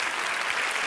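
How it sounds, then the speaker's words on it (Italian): Studio audience applause on the Italian TV dating show Take Me Out, a brief, dense burst of many hands clapping at steady loudness, heard alone without voices. "Applauso per Federica Alessandro, stellatevi le mani!"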